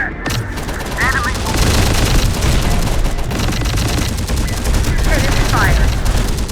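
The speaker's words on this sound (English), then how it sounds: "Enemy fire." Sustained heavy gunfire from the Terminator: Dark Fate - Defiance campaign, a loud continuous barrage of shots and booms with short radio-like chirps layered over it.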